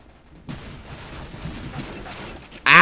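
Gunfire in Counter-Strike: Global Offensive during a Gun Game match, with a run of muffled, rapid shots in the background and then a sudden loud, sharp blast of a shotgun at the end.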